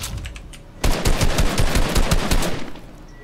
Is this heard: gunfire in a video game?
yes